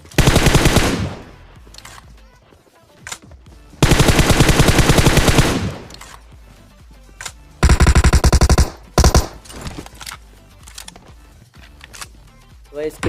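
Bursts of automatic gunfire from a PUBG Mobile match knock down an enemy, loud rapid volleys around the start, middle and near 8 seconds, with scattered single shots and game sounds between them.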